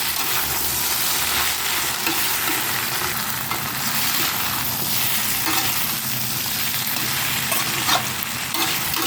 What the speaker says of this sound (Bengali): সমস্ত মশলার সাথে সবজিটাকে আমি আরও ভালো করে ভেজে নেব।